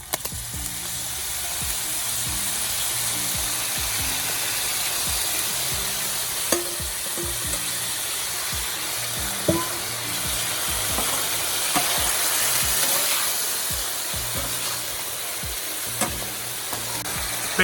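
Cooked ground beef with sauce sizzles on a Blackstone griddle for spicy Mongolian beef, a steady bright frying hiss with occasional scrapes and clicks of a spatula stirring, no talk.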